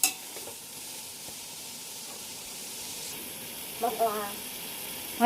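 Ginger garlic paste sizzles steadily in a hot pan while being stirred for chicken biryani in a village kitchen, a soft continuous hiss with a few brief scraping stirs near the end.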